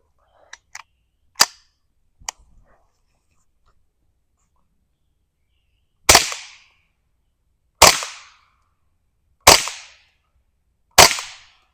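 Suppressed Ruger 10/22 takedown rifle firing CCI Standard Velocity subsonic .22 ammunition: a few light early pops, then four sharp, evenly spaced shots about 1.6 seconds apart, each a crisp crack with a short tail, alone with no talk.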